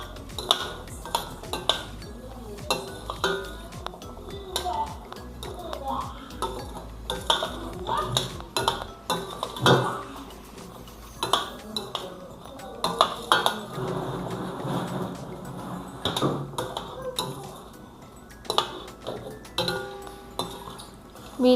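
Metal spoon clinking and scraping in a pan as fried gavvalu are stirred through sticky jaggery syrup, a steady run of close clattering and tapping with cookware knocks throughout.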